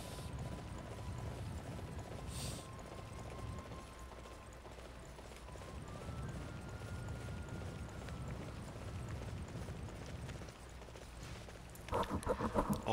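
Steady rhythmic hoofbeats of a galloping horse in a video game, Dynasty Warriors 9, run through the whole stretch, with a constant game-like background hum and a brief burst of brighter clatter near the end.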